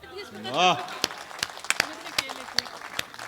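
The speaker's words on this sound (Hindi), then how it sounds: "तालियां चाहता हूं आपसे, बधाई देना मेरे को" A few scattered handclaps from an audience at a Hindi comic poetry recital, sparse single claps coming after a short burst of the poet's voice.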